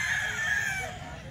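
A rooster crows once at a Sunday chicken market in San Jose del Monte, Bulacan, a faint, strained call heard at a distance over low background noise.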